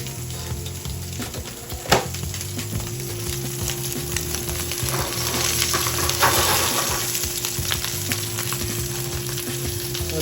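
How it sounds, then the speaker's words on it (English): Italian sausage browns in a pan with a continuous close sizzle, occasional clinks of a utensil and a louder crackle midway, no voices. "I'm going to take my Italian sausage and brown that up for a minute"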